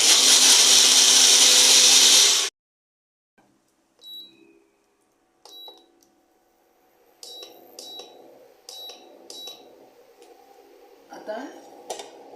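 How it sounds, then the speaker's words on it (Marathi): A mixer grinder blends cooked bottle gourd soup in a loud, dense whir for about two seconds, then stops abruptly, followed by faint clinks and light kitchen handling noises. "आता मी हे मिक्सरमध्ये वाटून घेते."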